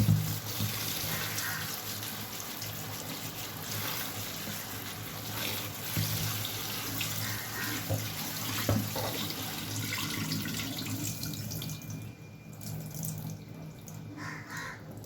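Tap water runs steadily into a sink while leafy greens are washed by hand, a continuous close splashing hiss with small shifts and a few drips toward the end.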